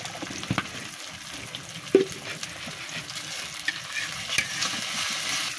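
Onion frying in a pan on a clay stove, a steady close sizzle with occasional stirring scrapes and one sharp clink.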